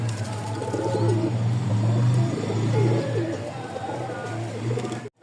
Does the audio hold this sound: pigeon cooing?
yes